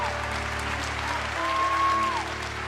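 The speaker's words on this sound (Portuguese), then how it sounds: "Pode aplaudir a Jesus." Church congregation applauding during a worship service, a steady wash of clapping from a crowd under a low hum, with a faint sustained tone drifting through.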